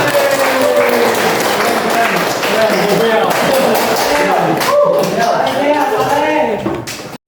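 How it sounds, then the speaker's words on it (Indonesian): An audience at a university event claps throughout, a loud sustained patter of hands with voices talking over it, ending in a sudden cutoff. "Tepuk tangan semua."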